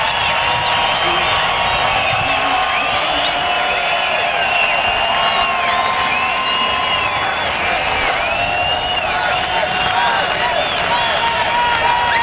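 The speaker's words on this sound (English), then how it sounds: "listen to this crowd. What a salute." A large race crowd at the 2011 NAPA Auto Parts 200 in Montreal cheers and chants loudly and continuously, with whoops and shouts rising over a dense roar throughout.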